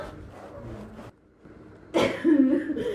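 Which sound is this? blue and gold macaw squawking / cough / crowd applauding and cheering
cough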